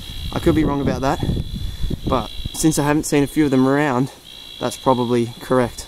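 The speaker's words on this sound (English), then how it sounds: "So you can hear the bleating tree frogs in the background" Bleating tree frogs in northern New South Wales call faintly in the background as a steady high trill, under someone talking close up.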